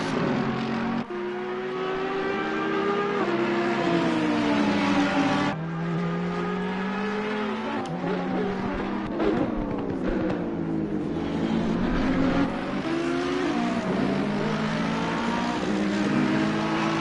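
GT race cars including a Mercedes, a Ferrari and an Audi at Zolder, engines howling continuously with rising and falling pitch through gear changes and corners, loud and near without a break.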